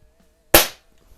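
A single sharp shot from a Snowpeak SP500 .177 break-barrel spring air rifle, close and loud with a quick decay, standing alone against a quiet background.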